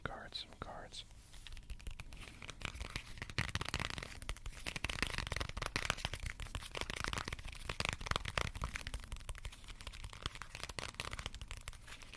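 Playing cards are handled and shuffled up close, with dense crisp flicks and riffles running continuously at a soft level.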